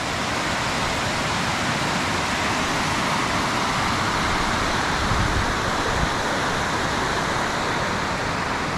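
A mountain stream flows along a forest trail near the Šútovo waterfall, a constant broadband rush that stays steady and fairly close throughout, with no voices.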